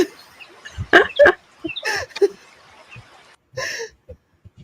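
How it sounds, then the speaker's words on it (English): Small birds chirp in short bright bursts at moderate distance, with a few brief sharp calls scattered between quiet gaps and no talking over them. "I think the birds are still chirping though."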